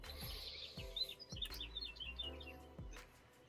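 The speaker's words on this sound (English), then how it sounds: "Is that bird part of the ambiance, or does someone have a bird?" A bird chirps outside an open back door, a series of faint, high, quick tweets heard from a distance over low background noise and soft thumps.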